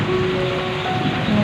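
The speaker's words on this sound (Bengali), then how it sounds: "ঝমঝম করে বৃষ্টি হচ্ছে" Heavy rain pours down in a dense, steady wash of hiss during a thunderstorm, loud and continuous with no talk.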